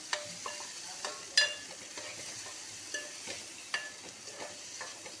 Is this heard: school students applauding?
no